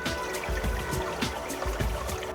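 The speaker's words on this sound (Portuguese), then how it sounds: "Borbulha no solo arenoso." Water bubbling up from sandy soil at a spring, a close, continuous trickling burble with soft repeated gurgling pops.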